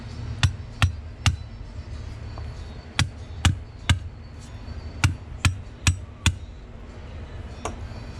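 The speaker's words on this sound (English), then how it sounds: "You got a hammer I can tap it with? Just hit." Sharp hammer taps ring out in uneven bursts during repair of a sagging floor in an old house, three quick strikes, then several more spaced out, fairly close, over a low steady background hum.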